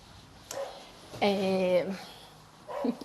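A dog barks outdoors after being let out, giving a short yelp, then a longer harmonic bark-whine, then another brief bark, moderately loud at some distance with no talk.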